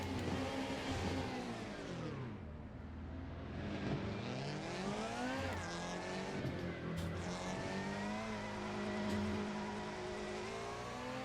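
A BMW Super Touring race car engine in the racing game Assetto Corsa at Silverstone, revving up and down in rising and falling sweeps as it speeds along, loud and continuous.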